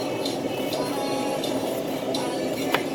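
A knife cuts an onion on a cutting board in a home kitchen, with a few soft, spaced chopping taps against the board over steady room noise.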